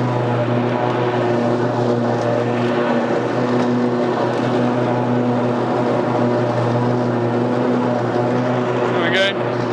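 A Cub Cadet XZ6 zero-turn mower with a steering wheel drives along an edge. Its engine gives a loud, steady droning hum throughout, with a brief higher whine near the end.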